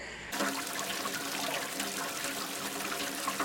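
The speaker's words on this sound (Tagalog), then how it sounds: "ito, binubuhusan natin" Hot water poured from a kettle onto a dented plastic bumper of a Toyota Innova, a steady close splashing and trickling stream that runs without pause.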